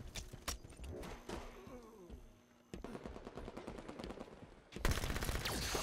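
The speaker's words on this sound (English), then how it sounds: "I shot him in the head!" Rapid automatic gunfire in Halo 5 online multiplayer, loud bursts of shots crackling close by with a brief lull midway and a sharp, heavier blast near the end.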